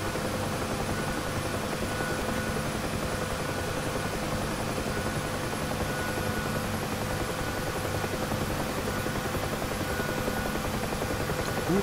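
A Huey helicopter taking off in the DCS flight simulator, its rotor and turbine droning loud and steady throughout with no break.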